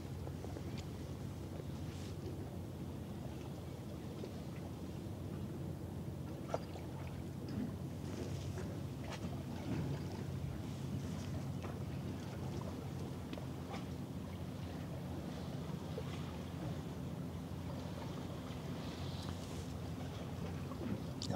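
Pilot boat following a large container ship on the Elbe, the vessels passing as a steady low engine rumble and water wash, with wind buffeting the microphone throughout and no voices.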